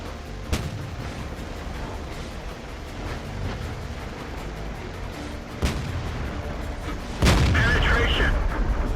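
In World of Tanks, three sharp, booming tank cannon shots ring out several seconds apart, each with a short echoing tail, over continuous battle ambience.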